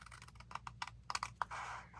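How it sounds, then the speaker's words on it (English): Paper being trimmed for a small handmade ephemera holder, cut at the fold: a run of short, crisp snips and clicks at close range, irregularly spaced, ending in a longer rustling swipe. "So I will trim this."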